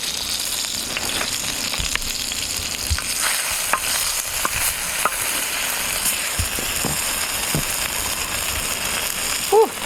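Perch frying in pork fat in a pan over an open fire outdoors in the snow, a loud, steady sizzle with occasional scraping and clicking from stirring, and faint voices talking over it.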